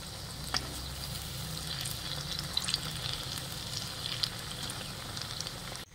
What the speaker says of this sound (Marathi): मंद ते मध्यम आचेवर भजी दोन्ही साइडनी व्यवस्थित तळून घ्यायचे।